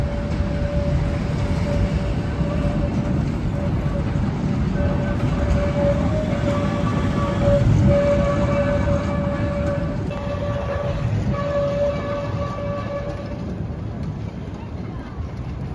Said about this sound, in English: Oh, the train's coming, look.